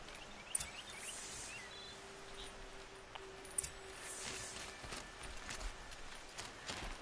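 Faint rhythmic clip-clop of a mount's hooves on a path in Horizon Zero Dawn, with light outdoor ambience, insect chirps and a few sharp clicks.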